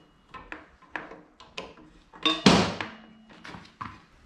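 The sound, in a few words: sliding motorcycle rear brake caliper out of the way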